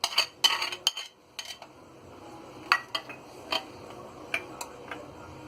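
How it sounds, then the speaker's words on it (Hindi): Chopped onion, tomato and green chili drop into a bowl with a few clinks and taps of utensils, busy at first and then sparse, sharp ticks, close by with no talking. "अब इसमें हम ये प्याज डालेंगे, टमाटर डालेंगे और ये हरी मिर्ची डालेंगे।"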